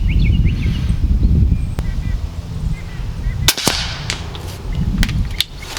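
A Nova Liberty air rifle firing 26-grain hollow point slugs at 100 yards outdoors in fierce wind. A few sharp, abrupt cracks stand out over the constant wind rumble, and a voice can be heard earlier.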